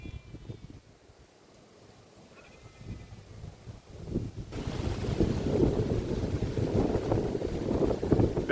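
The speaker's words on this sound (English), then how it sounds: "Very windy, as it should be at the top of a hill." Strong wind buffets the microphone in rough, roaring gusts on top of Chinnor Hill in the Chilterns, quieter at first and then swelling louder and steadier for the rest.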